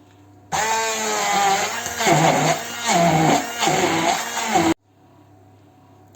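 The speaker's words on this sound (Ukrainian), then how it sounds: "тепер ми цю тут печінку зіб'ємо блендером на паштет" A blender whirs loudly for about four seconds pureeing cooked liver into pâté, its motor pitch dipping and surging as it churns the thick mixture, then cuts off abruptly into quiet.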